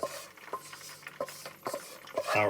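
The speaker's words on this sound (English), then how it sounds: "there is the onion puree that I made earlier. Still a little bit of liquid in it, but let's get that all in there." Thick onion puree with a little liquid scraped and spooned into a cooking pan for a lamb bhuna gravy, giving soft wet plops, clinks of utensil on metal and stirring noises in short bursts, fairly close.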